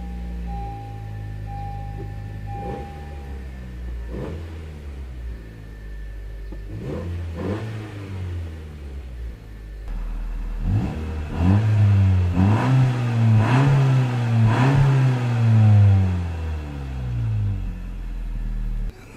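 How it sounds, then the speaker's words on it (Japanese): A Honda Civic hatchback with a six-speed manual and low wide body starts up, then idles and is revved in several rising bursts, the engine close and growing louder toward the end. "ちょっとエンジンかけさせてもらいます。"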